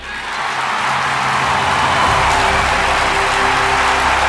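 Steady applause from a large audience at the CPAC 2021 conservative conference fills the space, a continuous dense clatter of clapping that holds at an even level throughout.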